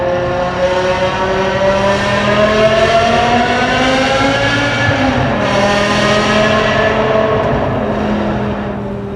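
A Ferrari 599 GTB-style exhaust fitted to a V10 BMW M6 roars as the car accelerates in fifth gear, a loud, continuous engine note climbing steadily in pitch, close by, with no talking over it.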